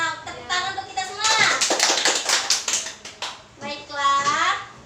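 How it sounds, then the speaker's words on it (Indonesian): Primary school children clap together in a classroom, a burst of quick, close hand claps set between stretches of children's and a teacher's voices before and after. "Tepuk tangan untuk kita semua."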